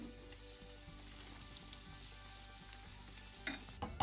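Sonho doughnuts frying in oil, a soft continuous bubbling sizzle with faint utensil taps toward the end.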